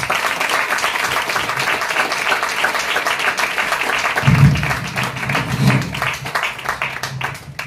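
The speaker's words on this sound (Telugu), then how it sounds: "యేసయ్య నామమున మహిమపరుస్తూ చప్పట్లు కొడుతూ వారిని ఆహ్వానిద్దాం." A church congregation in Kuwait applauds in sustained, dense clapping that stays even and fairly loud throughout, with a brief low murmur swelling midway.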